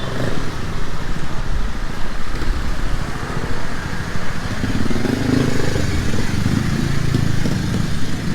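A motor scooter weaving around cars in Bangkok traffic. Its buzzing engine drones loudly and close by amid a steady wash of road noise, rising toward the end as it passes.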